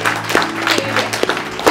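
Wedding guests applauding at a reception table, a short dense burst of clapping from a crowd close by, steady for under two seconds.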